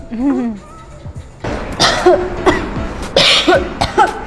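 A person coughs several times in short, sharp bursts amid a busy room, with other voices and movement around them.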